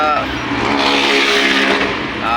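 Rush-hour road traffic on a Saturday: a car engine revs and accelerates close by, a steady loud motor drone with rising pitch sweeps as vehicles move and pass, while someone talks over it.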